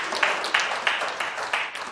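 A few people clap in a jail setting, about six sharp, evenly spaced claps close to the mic, with no talking over them.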